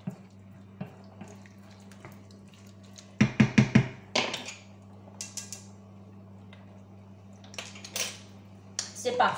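A lid clatters onto a pot of boeuf bourguignon in a home kitchen, a short burst of close metallic clinks followed by scattered lighter knocks and kitchen handling sounds over a low hum.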